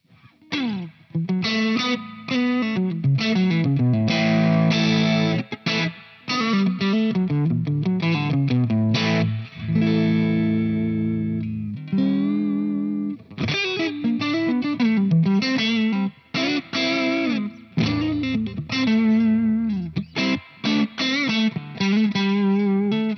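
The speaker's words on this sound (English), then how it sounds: "let's turn on the reverb, and I have to say that this is a great sounding reverb." Electric guitar played through a TC Electronic Combo Deluxe 65 amplifier with a lush reverb tail, chords and notes ringing out and decaying between phrases, no talking.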